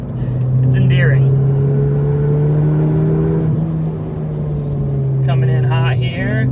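A 2018 Ford Fiesta ST engine drones loudly at high revs in third gear, its pitch climbing steadily toward 6,000 rpm, while someone talks over it at the start and end.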